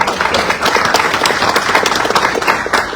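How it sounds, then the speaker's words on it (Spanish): Loud, sustained applause from a conference audience in Peru, dense overlapping clapping filling the whole stretch at an even intensity. "Por favor, un fuerte aplauso"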